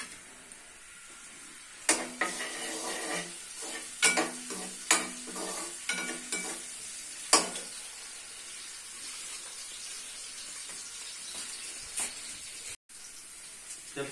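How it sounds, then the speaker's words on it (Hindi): Garlic frying in a hot pan of oil gives a steady hiss and sizzle, with several sharp clatters of stirring and scraping in the middle and soft background noise. "इस तरह से लहसुन को हम थोड़ा सा फ्राई कर लेंगे"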